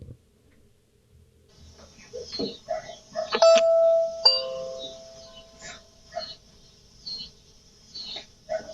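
A doorbell camera's chime sounds clearly in a short ding-dong pattern over quiet ambient noise, followed by scattered faint knocks and rustling.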